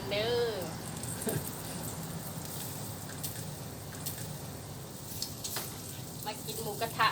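Pork sizzles on a Thai moo kratha grill, a continuous crackling fry with scattered sharp pops and spits, while a voice talks over it near the start.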